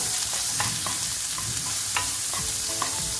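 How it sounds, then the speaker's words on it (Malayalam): Green peas, corn, carrot and chopped shallot being stirred in a pan, with brisk repeated scraping and clinking strokes over a steady sizzle, close and fairly loud. "ഗ്രീൻ പീസ്, കോണ്, ക്യാരറ്റ് നന്നായി മിക്സ് ചെയ്യാം."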